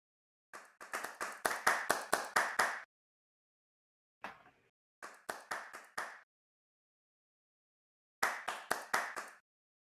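Bursts of rapid, even handclaps from an applaud emote in a video game, heard in three separate runs with a short faint rustle between them and silence around each burst.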